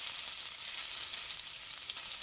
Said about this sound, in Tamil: கடுகு வந்து பொறிஞ்ச உடனே தாளிக்கிறதுக்கு கொஞ்சம் கடலை பருப்பும் அது கூடவே கொஞ்சம் உளுத்தம்பருப்பும் சேர்த்துக்கலாம்